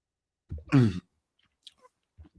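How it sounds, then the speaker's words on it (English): A single close, throaty cough, short and fairly loud, followed by a few faint clicks and rustles in an otherwise quiet room. "hold on 1 second, I need to cough."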